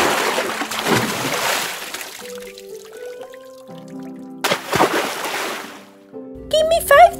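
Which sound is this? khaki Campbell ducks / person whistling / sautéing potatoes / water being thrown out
water being thrown out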